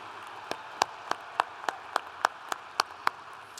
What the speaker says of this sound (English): Let's recognize, once again with applause, all of these employees and thank them for their contribution to the success of our graduates